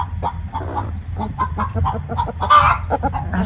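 Hen clucking after laying an egg, close and loud, a busy run of rapid clucks and squawks rising to a sharper cackle near the end, with other chickens nearby.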